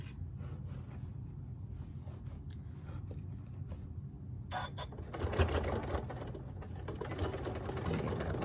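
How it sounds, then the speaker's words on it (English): A sewing machine stitches fabric while making a storage box and thread catcher, running steadily in a dense, continuous whir that gets louder and busier partway through, with brief back-stitch changes and no talk. "Back stitch, stitch to the front, back stitch again, and voila."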